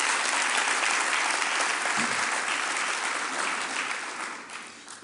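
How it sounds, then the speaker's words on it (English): Loud, dense round of audience applause at a book launch in Port Elizabeth, sustained clapping that gradually fades toward the end. "give them a big round of applause for being part of today as well"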